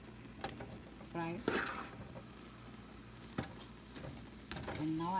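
Apple pickle fries in oil with sugar. A soft sizzle runs under scraping stirs and light clinks of utensils on the pan, and bits of nearby speech break in now and then.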